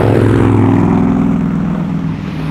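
A passing sports car among a group of Porsche, Mustang, Ferrari and old Corvette, a loud, close engine roar and tire rush that fades slightly as it moves away, with no talking.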